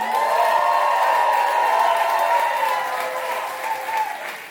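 A comedy club audience at a one-liner contest in New York applauds and cheers for comedian Gary Simon, a dense wash of clapping with scattered whoops that holds steady and then slowly fades.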